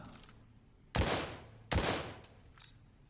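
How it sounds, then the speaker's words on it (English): Two sharp impacts with bright broadband crashes, about 0.8 s apart, as magazines drop during a fast reload in Daymare: 1998, a survival horror video game. A fainter clatter follows; no one talks. "Basically just drop the mag real quick"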